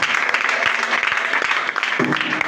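A church congregation at a worship service cheers and applauds God, a dense burst of clapping and shouting voices filling the hall throughout.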